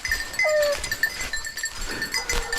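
A goat bleats in a rural field during a hunting-season outing, a few short nasal calls close by, mixed with outdoor rustle, scattered thumps and faint jingling that may be bells.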